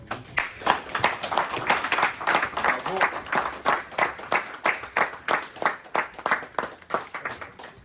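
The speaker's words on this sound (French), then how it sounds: "que je vous demande d'applaudir très fort" Audience at an installation ceremony for Haitian organizations in France clapping loudly, the applause settling into a steady rhythmic beat of individual claps throughout.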